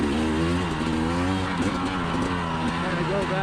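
KTM 300xc TPI two-stroke dirt bike, a 2020 model recovering from being drowned, running steadily in second gear with a continuous buzzing engine drone and slight rises in revs, heard up close with voices partly over it.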